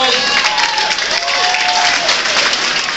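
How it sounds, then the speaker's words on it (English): Steady, dense applause from a crowd at a congressional campaign kickoff rally, continuous clapping filling the room at an even level throughout. "Give Lasu a big round of applause."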